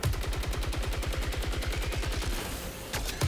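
An assault rifle firing in the shooter game Saros, a long fast rhythmic stream of evenly spaced shots, loud and close, breaking off near the end before a couple of final impacts.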